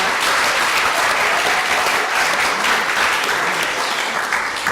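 A theatre audience at a ceremony bursts into loud, sustained applause, a dense wash of many hands clapping at once that holds steady throughout without any voices over it.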